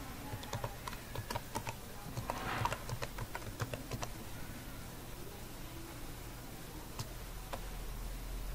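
Someone types an email address on a computer keyboard, with quick, quiet, irregular key taps over a low background hum.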